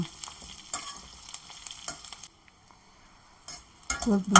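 Garlic frying until crispy for Pallipalayam chicken, with crackling sizzle and rhythmic stirring scrapes that pause briefly midway before picking up again, close and moderately loud, with no talking.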